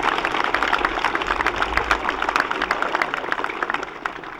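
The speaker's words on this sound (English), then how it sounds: "Give them a round of applause." An outdoor crowd at an annual commemoration gives a round of applause: crisp, scattered claps over a low rumbling background, fading slightly toward the end.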